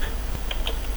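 Soft, quick key clicks from typing on a computer keyboard while entering Linux partition commands on RHEL7, faint and close, with a light background hiss and no talking.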